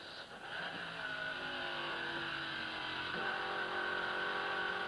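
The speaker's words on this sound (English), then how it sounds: "Motor seems to be a little lazy. It isn't revving up as fast." A 1970 Trans Am race car engine drones steadily at high revs around 7,500 rpm at Watkins Glen, pitch climbing and dipping as it accelerates and shifts, slightly sluggish, with wind and road noise throughout.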